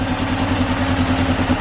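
A freshly rebuilt Arctic Cat ATV engine idles on its first start with the carburetor still unadjusted, a loud, steady, low chugging drone with even rhythmic pulses, close up and with no talk over it.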